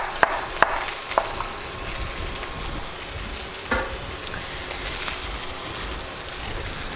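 Sausages searing in a pan for a sausage, pepper and onion sandwich, a steady soft sizzle with a few sharp pops and crackles near the start, quiet and close with no voices.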